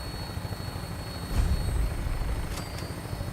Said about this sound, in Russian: А вот и дирижабль.